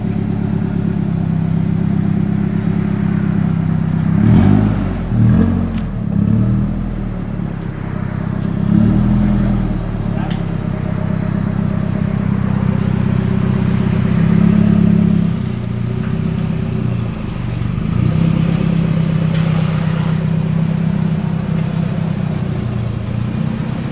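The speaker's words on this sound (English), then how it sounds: "but now I'm gonna test drive it" Drift car, also a daily driver, on a test drive after a five-lug wheel conversion, its engine droning steadily with rising and falling revs and some rattly clatter throughout, loud and close as if heard from inside.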